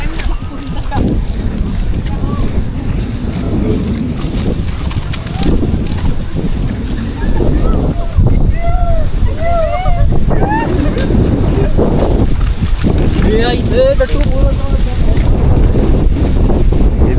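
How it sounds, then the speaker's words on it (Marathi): A mountain spring's water rushes steadily close by on the climb to the Ekvira fort, mixed with gusty wind noise on the microphone, while people talk over it. "इथे बघा झरा कसा ते"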